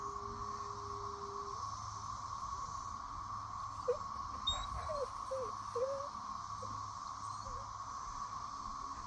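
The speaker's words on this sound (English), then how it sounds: "That's the sound of lots of cicadas." A large chorus of periodical cicadas in South Carolina drones as a steady, continuous hum, fairly faint and unbroken, with no voices.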